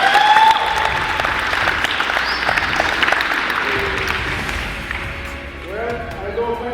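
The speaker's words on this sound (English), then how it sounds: "Can we just give basketball a round of applause?" A crowd at a basketball festival applauds in a loud, close burst that gradually thins and fades, with voices and scattered cheers mixed in as the clapping tapers off toward the end.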